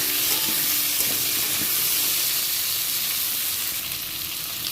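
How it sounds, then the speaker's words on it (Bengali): Potatoes and vegetable stalks fry in a pan for a poppy-seed curry, giving a steady, close, dense sizzle throughout with a few soft stirring knocks and no voices. "সমস্ত ডাঁটাগুলো আমি আলুর মধ্যে দিয়ে দিলাম। এবার আমি ভালো করে ভেজে নেব।"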